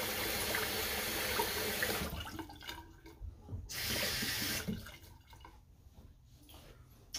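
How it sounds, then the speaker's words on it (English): A tap runs steadily for rinsing during a shave with a Razorock Blue Label razor, a close, hissing stream of water that breaks off twice into quieter dripping and handling before flowing again. "I get a little bit of rinse and rinse going"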